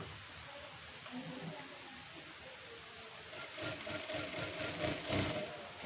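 A domestic sewing machine stitching blouse pieces together, quiet hum at first, then a faster, louder rhythmic run of needle clatter in the last few seconds, close by.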